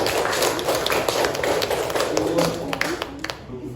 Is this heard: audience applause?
yes